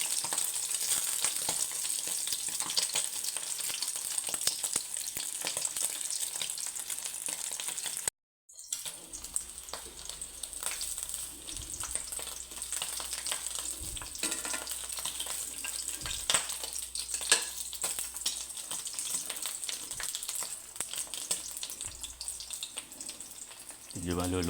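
Food fries in a pan as a dense, continuous crackle with a brief break partway through, then the frying resumes with scraping and faint watery sounds.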